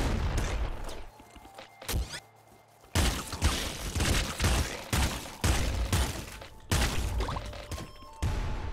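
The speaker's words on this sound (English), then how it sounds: "Quadruple machine gun." Rapid automatic gunfire from a quadruple machine gun in the roguelike shooter Nuclear Throne, loud, dense bursts with brief pauses between, mixed with game impacts and effects.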